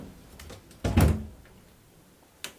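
An empty cash register drawer is opened in an abandoned house, producing one loud sliding clunk near the middle followed by a short knock at the end, with quiet room tone in between.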